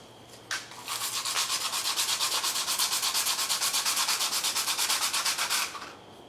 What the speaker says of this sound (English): I'm hoping I can just sand them by hand with some 180 grit sandpaper